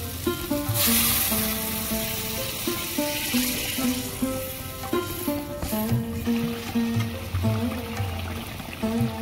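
Water hits hot fried masala for a Bengali fish kalia, setting off a loud close sizzle and bubbling with stirring scrapes, settling into a steady simmering hiss.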